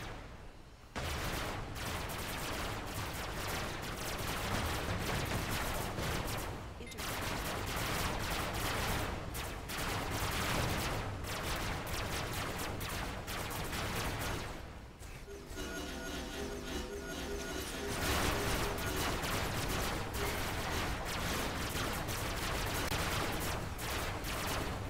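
In the video game Robocraft, SMG fire rattles almost continuously at high rate, a dense, steady barrage of rapid shots lasting throughout with only brief gaps.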